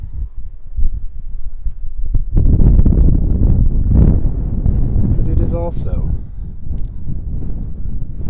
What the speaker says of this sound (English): As you can probably hear, it is incredibly windy today.